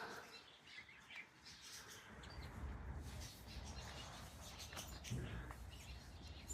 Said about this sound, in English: Some cockatiels.